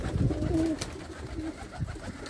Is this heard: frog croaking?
no